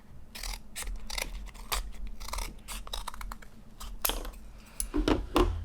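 Scissors make a series of quiet, crisp snips and crunches while trimming the top and bottom of a makeshift mount for miniature gel plates. The cuts come in an irregular rhythm up close, with no talking.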